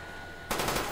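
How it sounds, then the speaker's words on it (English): An AK rifle in a Call of Duty zombies game fires a short, loud burst of rapid automatic shots, breaking in suddenly halfway through after a quiet electronic hum. "The sound of this gun is weird."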